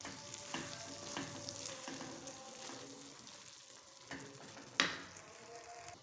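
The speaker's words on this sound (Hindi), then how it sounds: "अब हम दाल को अच्छे से मिक्स करेंगे।" Moong dal with ground cumin and dried fenugreek leaves is stirred in a pan, giving a faint, continuous low sizzle broken by soft scraping strokes and one sharper clack near the end.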